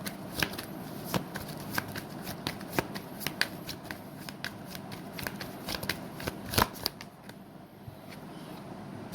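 Tarot cards shuffled by hand in a quick, uneven run of crisp riffling flicks and soft slaps, close and fairly loud with no talking.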